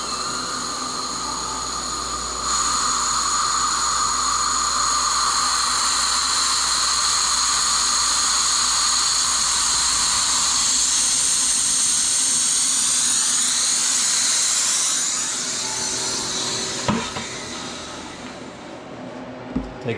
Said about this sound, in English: Takes the vacuum off so we can open the door.